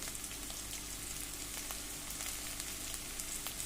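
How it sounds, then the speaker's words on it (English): Curry leaves hit hot oil with fried garlic and ginger and give off a soft, steady sizzle. The crackle is faint and continuous, with a few tiny pops and no speech. "Now I'm going to add the curry leaves"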